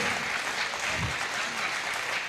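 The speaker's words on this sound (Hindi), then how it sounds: "एक बार तालियां बजाइए" An audience at a poetry recital ceremony claps steadily, a dense and sustained round of applause with no clear voices over it.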